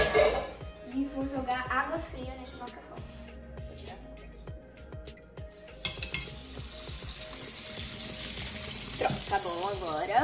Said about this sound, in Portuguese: Vou jogar água fria nesse macarrão.